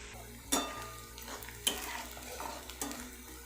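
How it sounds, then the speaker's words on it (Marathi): Onions frying in a pan over a low flame until brown, with a soft continuous sizzle under three sharp spatula scrapes that land about a second apart, close and clear. "या कांद्याचा ब्राऊन कलर होतपर्यंत आपल्याला फ्राय करायचा आहे कांदा"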